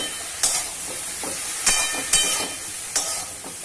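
Snake gourd, salted and briefly covered, frying in a pan with a steady sizzling hiss, broken by a few sharper bursts of spitting and stirring scrapes, close up and with no talk.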